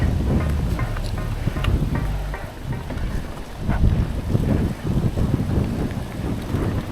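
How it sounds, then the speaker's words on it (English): Strong wind buffets the microphone as a lone mountain biker rides into a headwind on a rocky trail, a steady low roaring rumble that swells and dips without a break. "We're going against the wind."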